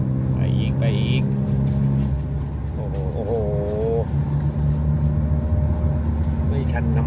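A car engine strains up a steep hill road to Wat Phra That Doi Leng temple, a steady low droning hum heard from inside the vehicle while people talk over it.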